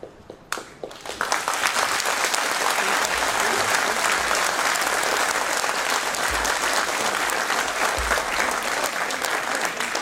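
Audience applause at an academic year inauguration begins after a brief pause and swells into dense, sustained clapping that continues steadily to the end.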